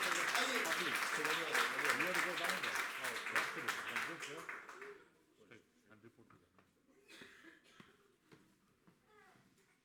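An audience at a UK Hindi poetry event claps loudly for a young performer, a thick burst of applause that fades out after about five seconds, followed by quiet room sounds and a few soft voices.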